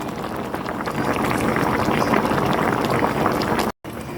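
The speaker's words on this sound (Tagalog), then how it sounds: "Kumukulo na po." A pot of ginataang tambakol, coconut milk stew with tambakol fish, boils with a close, steady bubbling churn that holds even throughout, broken by a brief dropout near the end.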